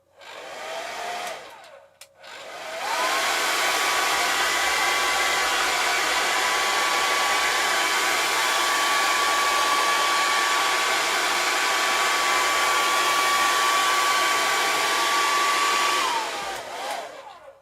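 A hair dryer drying a watercolour painting blows at a steady, loud whir for about fifteen seconds after a short start, then winds down.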